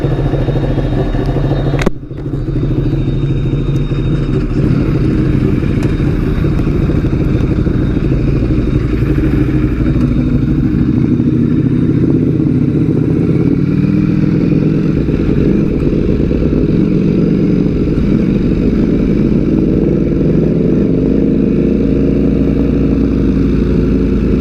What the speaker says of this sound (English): That's a loud bike.